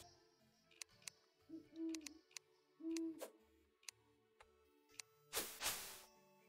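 A bird in the video game Terraria gives two soft, hooting calls a second or so apart, set among sparse ticks and clicks, followed by a brief louder whoosh of noise.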